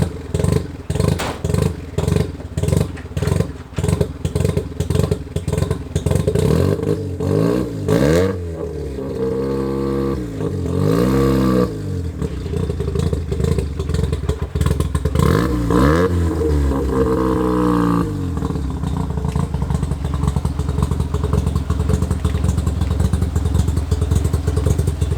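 A 1993 Mazda RX-7 FD rotary engine runs close and loud, idling with a choppy, pulsing beat, then revving up and dropping back several times.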